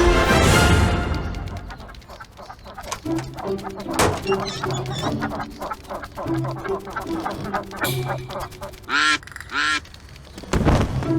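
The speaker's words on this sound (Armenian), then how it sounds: "Բադերը, ճանապարհին բադեր են։" Cartoon ducks crossing a road quack and honk in short, loud, repeated calls, bursting out in clusters between thumps and light bumps, with a character speaking briefly.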